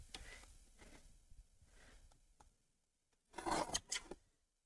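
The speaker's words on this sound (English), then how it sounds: "so I'm going to trim that side down." Scissors trim down the side of a paper craft card, a few quiet snips early on followed by a louder, closer burst of cutting near the end, with no talking.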